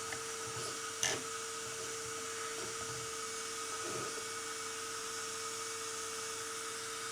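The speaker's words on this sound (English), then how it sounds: "my servo is making strange noises" An RC servo hooked to a faulty gyro during a bench test emits a steady high whine and hiss with a constant tonal hum, broken by a brief sharp click near the start and faint clicks later, with no talking.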